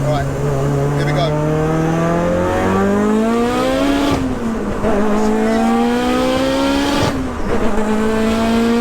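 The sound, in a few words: 900 bhp Mitsubishi Evo 8 accelerating hard on boost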